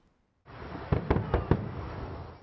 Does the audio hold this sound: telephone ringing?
no